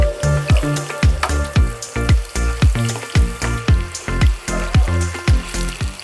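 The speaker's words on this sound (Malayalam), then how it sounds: "ചൂടായ എണ്ണയിലേക്ക് ചിക്കൻ ഇട്ട് കൊടുക്കാം." Marinated chicken frying in hot oil in a pan crackles loudly and close, a busy sizzle punctuated by regular stirring scrapes roughly twice a second, with no voices.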